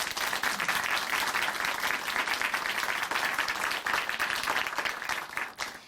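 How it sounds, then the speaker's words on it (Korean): Warm audience applause in a church broadcast program, a thick, continuous wash of clapping at a steady level for several seconds, dipping slightly at the very end, with no speech over it. "우리 응원의 박수 보내드리겠습니다"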